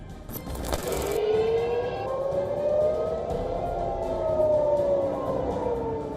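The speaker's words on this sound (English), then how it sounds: "First come the sirens." A loud air raid siren wails steadily during Iranian missile attacks on Israel, its pitch slowly rising and falling over several seconds, with a brief crackle near the start.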